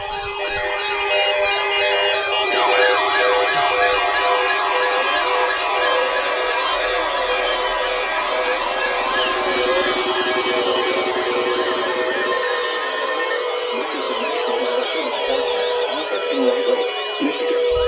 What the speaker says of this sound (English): The preceding signal was a test of the public warning alarm system for NOAA, All Hazards radio station, KE363.